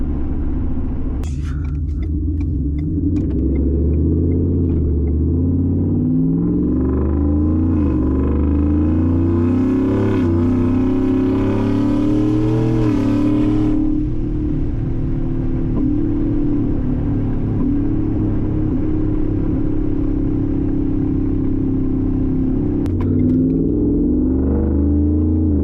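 A Ford F150 pickup with a custom exhaust drives along, its engine a loud, deep rumble that rises and falls through revs and gear changes, steady and close throughout with no talking.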